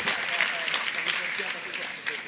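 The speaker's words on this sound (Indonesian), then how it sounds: "Tepuk tangan." Audience at an evening Sinau Bareng gathering applauds, a steady dense patter of clapping from a large crowd throughout, with speech-like voices mixed in.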